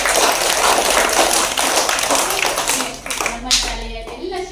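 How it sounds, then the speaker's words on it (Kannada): A school crowd claps loudly to welcome the head teacher on reopening day, with dense, quick clapping that thins out near the end as voices come through. "ಜೋರಾದ ಚಪ್ಪಾಳೆಯ ಮೂಲಕ ಸ್ವಾಗತವನ್ನು ಕೊಡ್ತಾ ಇದ್ದೇನೆ"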